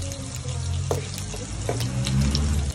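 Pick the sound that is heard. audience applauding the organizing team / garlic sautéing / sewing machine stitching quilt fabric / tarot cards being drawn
garlic sautéing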